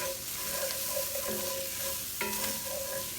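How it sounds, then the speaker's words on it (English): Two cloves of garlic are stirred in a skillet, a steady close sizzle with scraping strokes of the spoon running through it, with no voices. "that was 2 cloves of garlic. Stir that around."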